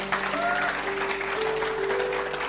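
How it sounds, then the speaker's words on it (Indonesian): Congregation in church clapping together after the preacher's call, a continuous, moderately loud patter of hands with a low steady hum beneath and a few voices mixed in. "Tepuk tangan buat Tuhan."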